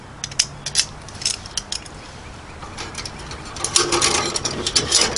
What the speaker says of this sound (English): you can just start off hand tightening it in